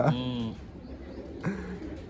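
Pigeons coo twice, close and fairly soft, each call a short throaty burst with a pause between.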